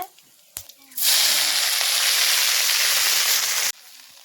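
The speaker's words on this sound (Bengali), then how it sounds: "গোটা রসুন আর শুকনো লঙ্কা ফোড়নে দিয়ে দিয়েছি" Whole garlic and dried chilies hit hot oil and burst into a loud, close, steady sizzle that lasts about three seconds before cutting off, with a faint clatter before it.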